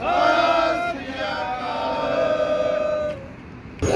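Rally crowd at an Akali Dal protest against the land pooling scheme in Patiala, many voices chanting Zindabad slogans together in a loud, sustained, rising-and-falling roar that drops off near the end.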